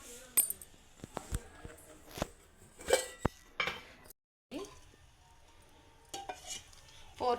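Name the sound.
pan being placed and handled on the stove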